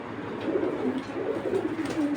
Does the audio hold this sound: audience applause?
no